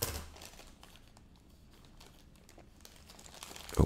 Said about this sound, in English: I'm just going to go ahead and take my scissors